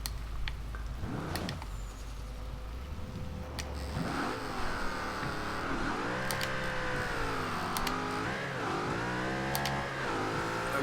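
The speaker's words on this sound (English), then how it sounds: "Quite a bit of wheel spin in first gear, but it quickly gripped." A 2010 Noble M600 in Forza Horizon 2 spins its wheels in first gear as it accelerates hard. The close, loud engine note climbs through several rising sweeps with no talk.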